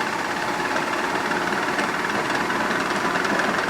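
A 1983 Harley-Davidson FXR with an 80-cubic-inch Shovelhead V-twin idles at about 1200 RPM after a top-end rebuild, a steady, rough, shaking rumble heard close up and alone.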